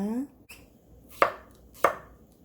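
A knife cuts through cucumber on a cutting board, two sharp crisp chops about half a second apart, close and clear after a brief tonal sound.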